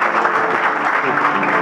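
A church congregation at a conference applauds the Lord, with loud, dense, continuous clapping from a large crowd close by and voices faintly mixed in.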